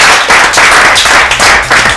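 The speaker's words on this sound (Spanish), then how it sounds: "Un aplauso a vosotros y a vuestras familias que nos acompañan." Young players of a youth sports programme and their families get loud, close applause in brisk rhythmic bursts that swell and dip in quick waves.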